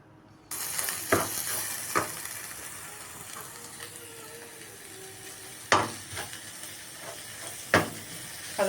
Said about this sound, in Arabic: هنزل عليهم ببصلتين. تمام، مفرومين في الكبه. هشوحهم تشويحتين كده